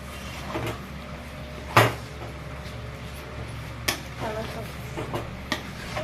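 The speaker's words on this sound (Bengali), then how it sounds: "তার জন্য কন্টিনিউ এটাকে নাড়তে হবে যাতে তলায় না ধরে যায়" A spoon scrapes and taps against a pan while tamarind chutney is stirred, with sporadic soft clacks and scrapes over a quiet background hum.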